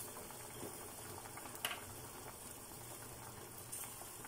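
Pork pochero stew with potatoes and bananas simmers in a pot, giving a quiet, continuous bubbling hiss with a couple of faint clicks, heard close with no talking.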